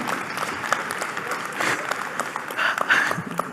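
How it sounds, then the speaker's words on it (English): Audience applauding at a blockchain information presentation, a short burst of scattered clapping at moderate volume with no voices over it. "Applause for Vladi."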